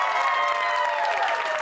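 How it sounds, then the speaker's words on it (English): Brief studio audience applause for a panel on a Big Brother spin-off show, a steady round of clapping with some cheering mixed in, heard alone. "give this panel a strong clap"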